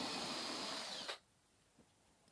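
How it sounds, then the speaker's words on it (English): A power drill bores a hole into a plasterboard wall, a loud steady whine for about a second that cuts off abruptly, followed by quiet with a couple of faint knocks. "And now I'm going to drill the holes."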